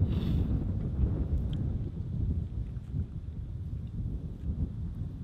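Steady wind blowing outside a van, buffeting the microphone with a continuous low rumble that holds at a fairly even loudness throughout, with no speech.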